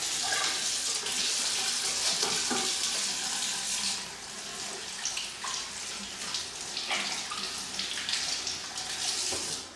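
Running water from a sink tap as hands are washed after removing gloves in a dental operatory, a steady broadband splashing rush with shifting surges, loud and close throughout.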